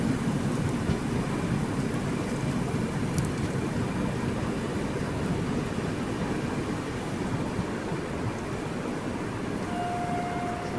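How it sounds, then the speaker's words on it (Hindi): Heavy rain lashes against a moving Rajdhani Express train in the Konkan region near Chiplun, a steady dense wash of water and rolling train rumble that holds loud and even throughout, with no voices. "बहुत बारिश हो रही है"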